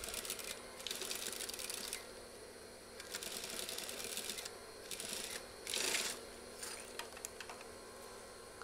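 Sewing machine stitching a straight seam along the waistband of a school trouser, through stiff interfacing and waistband fabric, heard as close, steady mechanical chatter in several runs with short pauses between them.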